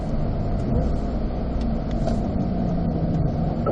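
A Chevrolet Corvette C8 pulls out of a corner on a racetrack during a performance driving school, its engine a continuous, muffled rumble heard from inside the cabin with a low, even drone throughout.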